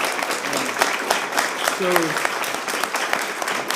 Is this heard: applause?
yes